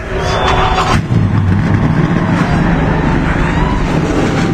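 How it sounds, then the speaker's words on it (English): NASCAR Nationwide Series race car engines fire up and roar together, a loud, close, continuous rumbling drone with a brief dip before building again. "Drivers, start your engines."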